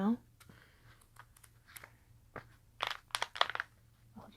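An old thrifted book gives off soft, scattered crunching and crackling of paper and binding in short irregular bursts, some sharper near the end, close and quiet.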